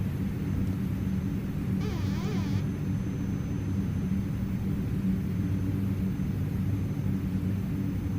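Constant loud low rumble of an ATR-72 turboprop landing in a 30-knot crosswind in Microsoft Flight Simulator, a steady engine and airflow drone with no speech.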